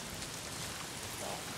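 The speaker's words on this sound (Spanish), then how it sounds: "¿Por qué siempre está lloviendo?" Steady rain falls in the open-world game Days Gone, an even, loud hiss of drops on surfaces with no breaks and no voices over it.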